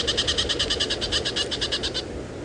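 A bateleur eagle calling in the African bush at sunset, a rapid run of about fifteen repeated barking notes for two seconds over low background rumble.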